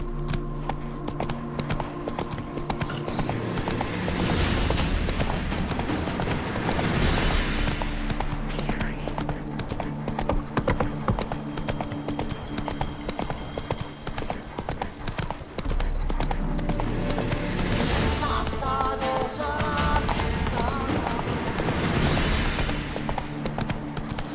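The horse Roach galloping in The Witcher 3, with steady, rapid hoofbeats running throughout over a wash of game ambience and music.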